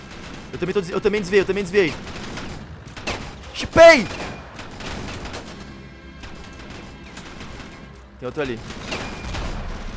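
Rapid bursts of gunfire in the shooter game Ravenfield, set in a World War One battle, with a loud blast near the middle, under a player's excited talking.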